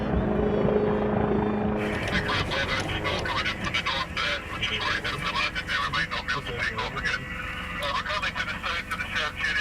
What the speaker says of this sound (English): the coastguard helicopter can't even land